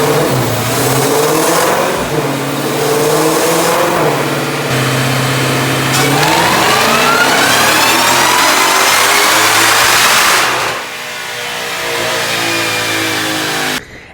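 2020 Shelby GT500 engine on a dyno: a loud sustained run with the pitch climbing steadily as the engine winds up under boost, then backing off at the end.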